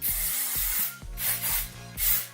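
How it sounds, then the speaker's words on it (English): Several short bursts of hairspray hiss from an aerosol can, one after another, close by with no talking. "I will go ahead and spray it lightly once again."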